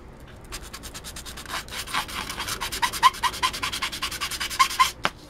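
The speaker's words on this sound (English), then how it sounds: "a bit of the sandpaper and there we go nice and straight" Sandpaper rubbed back and forth on a part for an Atari ST external hard drive box, a close series of rhythmic rasping strokes that grow louder and quicker, ending with a single sharp tap.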